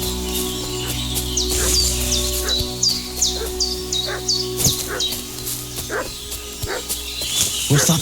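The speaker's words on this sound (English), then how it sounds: "What's that dog making such a fuss about?" Repeated dog barks from a farmstead in the Kingdom Come: Deliverance II video game, moderately close, set against a steady game ambience with chirping birds and a low hum.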